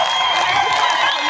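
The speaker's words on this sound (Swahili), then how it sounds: "Mtapie Yesu makofi mengi." A church congregation applauding together during a sermon, a dense, continuous wash of clapping and cheering filling the space, loud and steady throughout.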